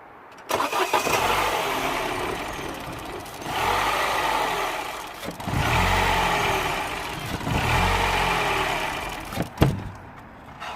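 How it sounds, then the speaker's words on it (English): A Mini One with the 1.4 N12 engine and a faulty sensor cranks and catches repeatedly, each start followed by a rough, uneven run that surges and dies away, in several close, loud bursts. "So let's start the engine again."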